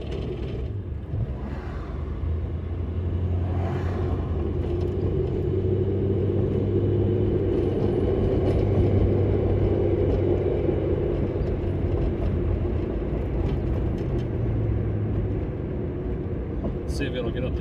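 A 1974 Dodge Dart, revived after five years of sitting, climbing a hill with a steady low engine rumble and drone that holds for most of the run and then eases off.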